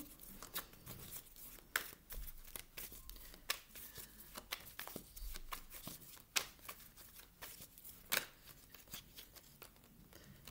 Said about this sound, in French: Je remets les cartes dans le bon sens.